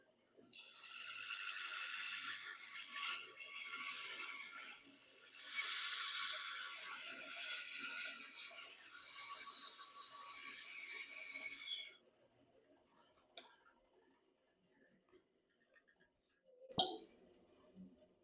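A bandsaw cuts through metal in a sustained, loud, rasping whine lasting about twelve seconds with a brief dip midway, then stops; quiet handling clicks and a sharp clink follow.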